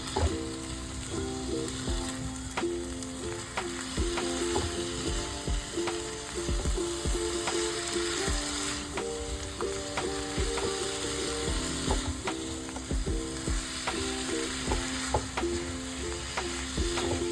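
Spice paste fries in a pan for a Bengali tangra fish curry with brinjal stalks, sizzling steadily up close while a spatula scrapes and stirs in repeated rhythmic strokes throughout, without speech.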